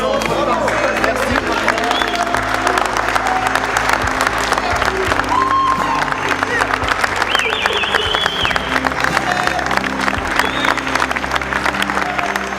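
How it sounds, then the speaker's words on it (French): Audience applause at a Sidaction 2012 charity event, a dense, steady wash of clapping that runs loud and continuous throughout, with crowd murmur and scattered voices mixed in beneath the claps. "Ils viennent d'applaudir parce qu'ils pensent tous que c'est fini."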